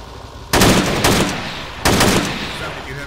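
Close AK rifle fire in a multiplayer shooter video game, with two loud bursts of rapid shots a little over a second apart, each tailing off into echo.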